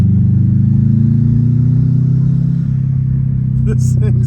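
A Subaru WRX STI engine rumbles loudly with a deep, sustained revving drone that eases slightly partway through, heard from inside the car, with brief faint sounds near the end.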